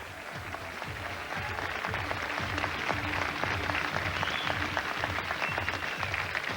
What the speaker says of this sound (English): One and all, a round of applause as they make their way off stage.